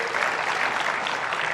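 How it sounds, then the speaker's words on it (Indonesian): An audience at a televised vice-presidential candidates' dialogue forum applauds two men, a short steady patter of many hands clapping at moderate volume. "boleh tepuk tangan dulu buat Bapak dua ini"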